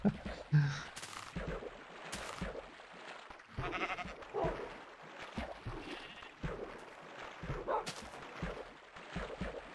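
Sheep bleat repeatedly in a video game near a wolf trap, the bleats mixed with other game sounds and scattered sharp bangs.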